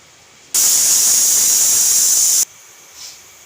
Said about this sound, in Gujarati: હવે આપણે કુકરનું ઢાંકણું બંધ કરી અને આપણે આની બે સીટી થવા દેવું